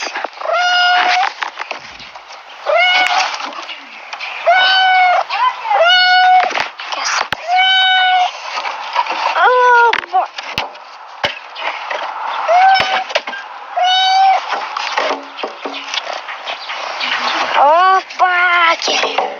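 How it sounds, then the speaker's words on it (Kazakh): A white cat meows repeatedly up close, a series of loud, drawn-out cries with short gaps between them, some rising into caterwauling. "Мінекей мысық"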